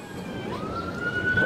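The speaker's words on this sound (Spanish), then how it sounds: "Ya se escuchan las patrullas." A police siren wails from a distance after an earthquake in Colonia Morelos, its rising tone sweeping upward over steady street noise and traffic rumble.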